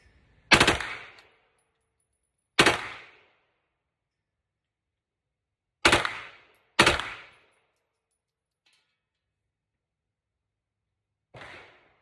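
A PSA AR-style rifle fires five sharp, loud gunshots indoors with silence between them: two single shots, then a quick pair, then a softer final shot.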